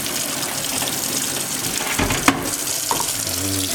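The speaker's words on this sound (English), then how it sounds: "I let a little bit cold water run in." Cold tap water gushes steadily into a pot of drained potatoes for potato dumplings, a continuous close splashing stream with a brief metallic clank partway through.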